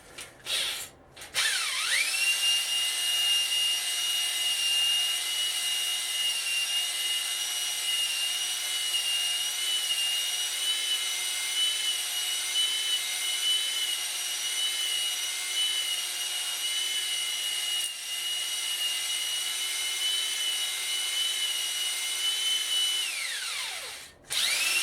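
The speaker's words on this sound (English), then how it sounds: "and then you're going to run the drill" A power drill spins a cylinder hone inside the bore of a Mopar 340 V8 engine block kept wet with WD-40, a steady, loud, continuous whir with a ringing metallic whine that starts and stops abruptly, heard alone without talk.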